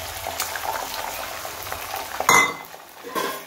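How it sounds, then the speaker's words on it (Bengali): Beaten eggs hit hot mustard oil in a pan for a scramble, producing a loud bubbling sizzle with clinks and scrapes of a utensil stirring against the pan. "প্রথমে আমি ডিমের ভুজিয়াটা করে নেব।"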